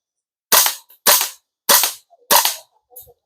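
Four sharp, loud gunshots crack out one after another at a shooting target, spaced roughly half a second apart. A few fainter clicks and knocks follow the last shot, and no one speaks.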